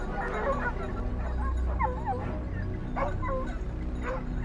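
A hunting pack of dogs in hilly forest yips, whimpers and barks in quick overlapping bursts, fairly close, over a constant low background rumble.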